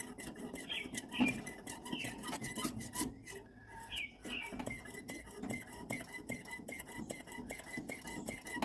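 A fifty-year-old pressure stove being pumped up: a rasping, rubbing stroke repeated in quick uneven rhythm, close by and moderately loud, running steadily for several seconds.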